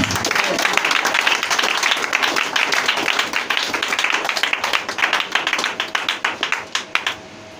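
A church congregation applauds and cheers for Jesus with loud, dense clapping that gradually thins into slower, separate claps as it winds down.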